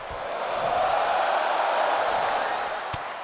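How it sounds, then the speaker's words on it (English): Arena crowd in the WWE 2K23 wrestling video game during a Royal Rumble match, a steady broad roar of cheering held at an even level with no clear breaks. "Listening to this crowd"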